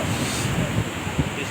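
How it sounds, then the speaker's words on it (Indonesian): Strong wind blows across a beach, a steady broadband roar with surf rumbling beneath and brief gusts buffeting the microphone. "Makin kencang angin ya."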